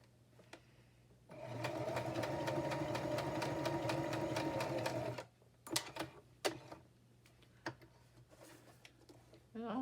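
A sewing machine stitches through the pages and pocket of a handmade blue journal. It gives a close, steady whirring run of about four seconds, then a few sharp clicks and handling noises as the work is repositioned.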